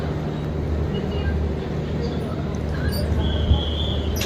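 Kondaveedu Express pulling out of Yeshwantpur, heard from inside a coach next to the SLR: a steady low rumble and hum of the moving train, with faint squeaks and rattles, close and continuous.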